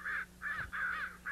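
Crows caw in a quick series of four harsh, evenly spaced calls, clear and fairly close, with a soft thump partway through and no talking.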